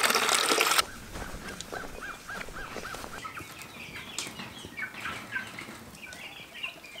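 Thirsty chicks chirp and cheep in short repeated calls with some wing flutter and rustling, close but fairly quiet, after a brief burst of water noise at the start.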